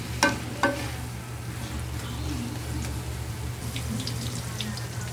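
Bitter gourd (ampalaya) frying in a pan, a steady low sizzle with two sharp clinks of a utensil near the start and light scraping as it is stirred.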